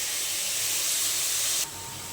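Washed, chopped mixed leafy greens (fourteen kinds of shak) hit a hot frying pan, giving a loud, steady, close sizzling hiss that holds for most of the clip, then abruptly drops to a softer sizzle near the end, with no talking.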